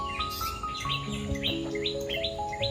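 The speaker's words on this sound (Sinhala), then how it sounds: "චූටි කුරුල්ලෝ වගේ සද්ද කරනවා." Sunbirds around a village garden give rapid, high, thin chirps and trilling notes, repeated in quick bursts, clear and fairly close with no voices.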